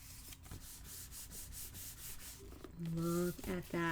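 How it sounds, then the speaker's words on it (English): A glued paper pocket on an album page being burnished, giving a rhythmic rubbing, sanding-like scrape that repeats steadily and close before a brief squeaky, tonal rub near the end. "I'm going to burnish it while in the closed position because I have better leverage that way."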